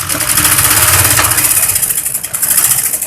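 A sewing machine runs steadily while stitching a kurti lining, giving a continuous, close, loud mechanical rattle with a fast even rhythm and no pauses.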